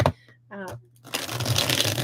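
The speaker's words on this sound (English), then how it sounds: "I'm just going to give this a good shuffle" A new, slippery deck of tarot cards riffles and snaps in a quick, noisy burst after a brief voice and a low hum, the shuffling loud and close.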